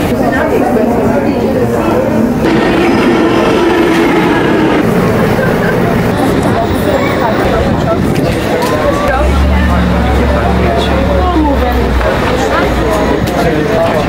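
Steady rumbling of a New York City subway train in motion, with a loud low hum and background chatter from passengers throughout.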